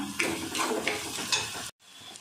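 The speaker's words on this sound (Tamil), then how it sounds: "இப்போ வெங்காயம் நல்லா வதங்கிடுச்சு" Two onions sautéing in a pan for a restaurant-style egg gravy: a close, steady sizzle with repeated stirring scrapes, ending in an abrupt cut to near silence.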